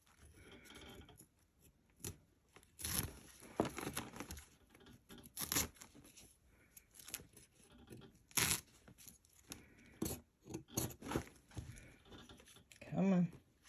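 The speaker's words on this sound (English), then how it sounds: "I'm going to take all my tape off before I do" Tape is peeled off an embroidery hoop: quiet, scattered ripping and crackling bursts of varied length, close and soft, with pauses of near silence between them.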